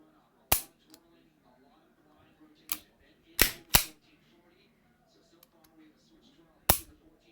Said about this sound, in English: Dry fire it twice